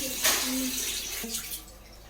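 Water pours and splashes steadily into a container for soaking biryani ingredients, a continuous gushing wash with faint talk briefly underneath.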